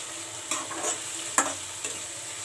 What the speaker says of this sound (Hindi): अब इन सबको मिलाकर भून लेते हैं।